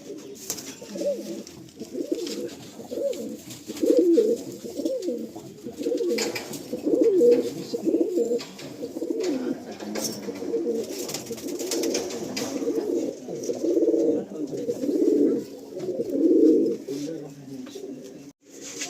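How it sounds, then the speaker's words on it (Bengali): Several Abluk pigeons in a loft at Ichchapur coo steadily and overlap in low, throaty murmurs, close by and continuous, with faint rustles and occasional quiet talk in the background. "এই আবলু ঘরেরই পায়রা আছে"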